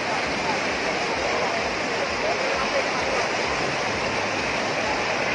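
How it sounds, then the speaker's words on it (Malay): Floodwater from a swollen river after a levee breach in Lhoksukon, Aceh Utara, rushes in a loud, unbroken roar, close and constant throughout. "air masih sangat deras karena debit air sungai pun terus bertambah"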